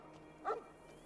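A dog in Fallout New Vegas gives a single short yip-like bark with a faint whimper, quiet and brief against a low steady game backdrop.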